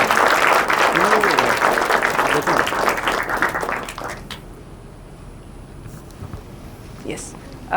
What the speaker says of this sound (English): Big round of applause for Suraj.